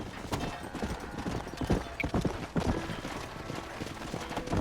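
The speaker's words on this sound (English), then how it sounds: "Hit your horse and wait for me by the stable." Horse hooves clip-clopping at a steady walking rhythm in the western video game Red Dead Redemption, close and fairly clear, with a brief faint whinny-like note partway through.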